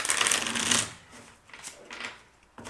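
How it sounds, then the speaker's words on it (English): Cards being shuffled up close, a dense riffling burst followed by a few softer flicks and shuffles. "This is the deck that I have to shuffle."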